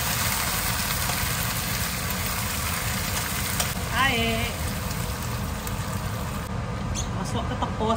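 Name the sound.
garlic and onion frying in oil for tapah fish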